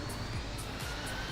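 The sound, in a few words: aircraft jet engines running in Infinite Flight video game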